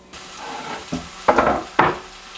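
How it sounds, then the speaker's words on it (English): Tofu browns in vegetable oil in a pan over medium heat, giving a soft crackle under a few sharp bursts of scraping or stirring close by. No one talks. "Then we're going to cook the tofu until browned on all sides."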